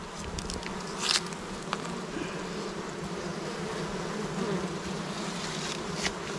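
A honey bee swarm buzzes steadily around a hive, a dense, continuous drone of many insects with a few louder passes near the microphone.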